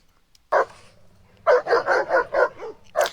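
An amped-up pitbull barks loudly and close by: one sharp bark, a pause, then a rapid run of five or six barks and a final one.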